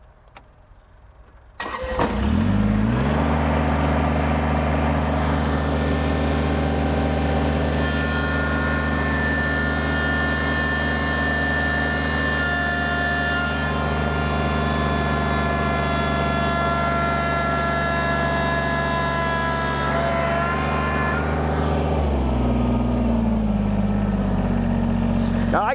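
A Kubota BX23s compact tractor's diesel engine starts up and then holds a loud, steady drone under load in low range, with a strained, laboring tone that drops away near the end.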